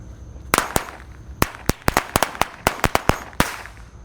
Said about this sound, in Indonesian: Mercon koreknya menyala semuanya